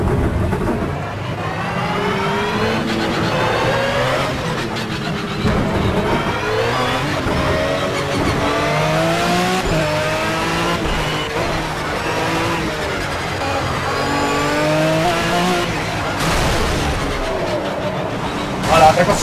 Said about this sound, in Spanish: Pero qué pasada como suena el V12, ¿eh?